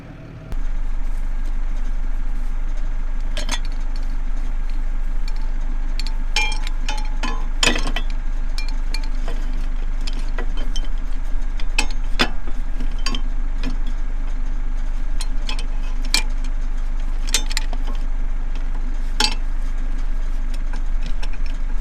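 Farm tractor diesel engine idling steadily and close while hitching up, a continuous low rumble with scattered metallic clanks and knocks from the hitch on top, no talking.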